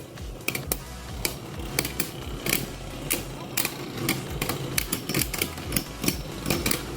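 Beyblade tops clash in a battle arena, making dense, rapid clicking and scraping that rattles continuously and close by, with small bursts of louder hits and no voices.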